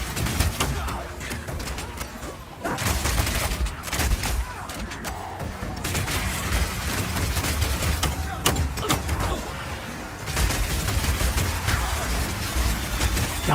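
Crossbow firing explosive grenades in Path of Exile 2, a rapid series of sharp pops and bursts repeating throughout amid dense combat noise, loud and continuous.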